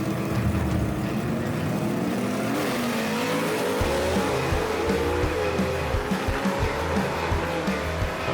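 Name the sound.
gasser drag race cars racing down the track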